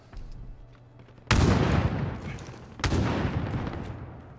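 Two loud gunshot bursts from Call of Duty: Modern Warfare Warzone, each a sharp crack with a ringing decaying tail, the first about a third of the way in and the second near the end, over a low background hum.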